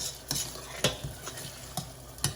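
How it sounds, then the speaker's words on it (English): A spoon stirs spices and masala in a hot cooking pan, with about five distinct scraping knocks against the pan over a soft, continuous sizzle, close up and without speech. "So mix all well"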